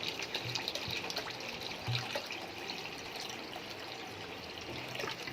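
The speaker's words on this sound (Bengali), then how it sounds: "এরপরে দিয়ে দেবো জল।" Water pours into a pan of doi katla, Bengali curd-style fish curry, making a steady close splashing and trickling rush, with no speech.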